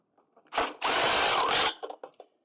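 A power drill snugs quick release bolts on a Mack David Buildings bunker board clip, two short whirring bursts, the second longer, followed by faint clicks and handling noise.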